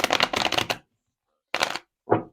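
Tarot cards are shuffled in two quick riffling bursts, close and crisp, separated by a pause, then a brief final shuffle sound.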